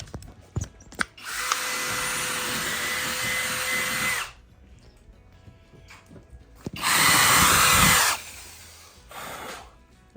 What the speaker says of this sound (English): I just start me some pilot holes with a drill